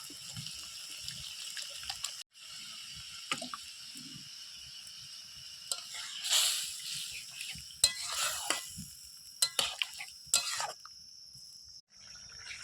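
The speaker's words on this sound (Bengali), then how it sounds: "এরপরে এর মধ্যে জল দিয়ে দিচ্ছি।" Water poured into a hot pan of Bengali fish curry, a hiss and sizzle with stirring scrapes and running-water noise over several seconds, no speech.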